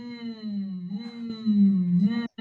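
Gnat buzzing in a phonics song, a steady, nasal, droning hum that wavers slightly in pitch for about two seconds before stopping abruptly, apparently a voice imitating the insect.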